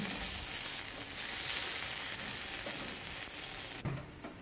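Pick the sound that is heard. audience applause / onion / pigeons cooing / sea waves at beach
onion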